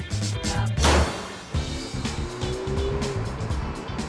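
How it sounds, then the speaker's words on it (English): A 1998 Ferrari F355 Spider with a V8 engine driving off the freeway, a loud, close engine drone with a surge of road noise early on, then a sustained rising tone as it pulls away. "Flying off the freeway is a 1998 Ferrari F355 Spider."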